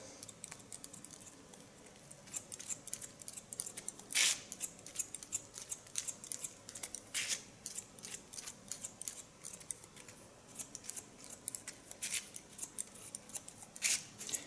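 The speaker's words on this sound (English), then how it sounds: "Lift the hairs up with my scissor again, and scissor over comb, cut the hair." Scissors snip hair lifted over a comb during a salon haircut, a quick run of crisp close metallic clicks with occasional sharper snaps, steady and without talking.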